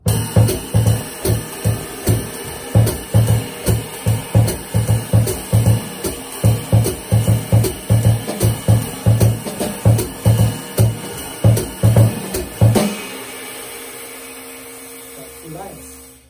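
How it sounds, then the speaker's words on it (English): Steady, evenly spaced bass drum thumps with cymbal wash form a repeating rhythmic pattern for about thirteen seconds, then stop, leaving a faint ringing decay. "play the melody with the bass drum"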